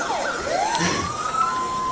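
Fire brigade and police vehicle sirens wail at a children's day event, loud rising and falling tones sweeping and overlapping continuously with no talk.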